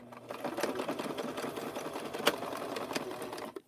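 A sewing machine back-stitches through coiled rope while making a rope bowl, running in a steady close mechanical whir with brief bursts of faster stitching, alone without talk.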